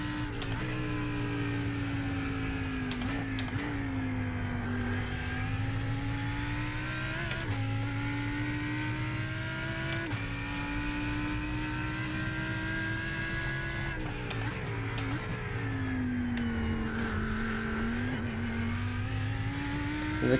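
Lamborghini race car engine on track at Imola in iRacing, a loud continuous engine whine rising and dropping through gear changes and corners, with several brief pitch dips and shifts across the run and no speech.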